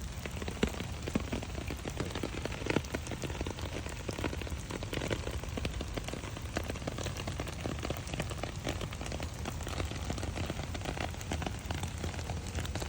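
Steady rain beats down on a flower garden of supertunias, a dense, constant patter of close drops with sharper taps scattered throughout, no voices.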